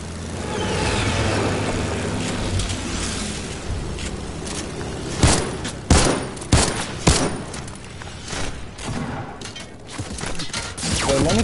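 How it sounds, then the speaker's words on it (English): Bursts of gunfire from other players in a Creative Mode parkour video game, a dense rattle of rapid shots with several louder close cracks in the middle, over a steady engine-like background. "People shooting already at us."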